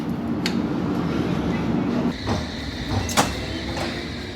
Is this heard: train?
yes